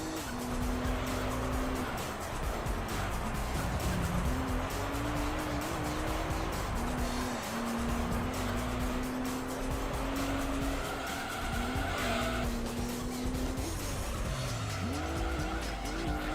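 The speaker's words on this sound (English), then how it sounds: "I think I regret putting this exhaust on because it sounds a little goofy." Modified exhaust on a car racing in Gran Turismo 3, a steady loud engine drone with gear shifts and rising revs, tire squeal and skids throughout, no longer sounding like a V10.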